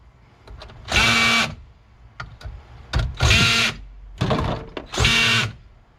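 Cordless power drill set to torque 13, driving fasteners on a Ford Escape/Mariner high-voltage cooling fan: four loud, close bursts of whirring, each about half a second long, separated by short clicks and quiet gaps.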